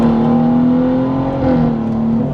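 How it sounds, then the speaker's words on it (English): A car in fifth gear speeds up to pass another vehicle on the road, a loud, steady engine drone and road roar from inside the cabin that rises slightly in pitch as the throttle opens, with no talk. "I'm going to press on the gas a bit more"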